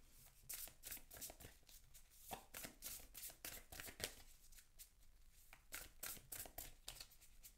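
A deck of oracle cards gets shuffled by hand, with quick repeated riffles and soft slaps. The sound is close but faint, and no one talks.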